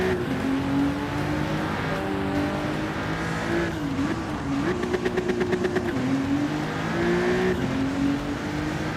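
Race cars in a racing video game battle computer opponents, engines droning and revving continuously up close, pitch rising and dipping with gear changes, with a brief rapid fluttering buzz midway.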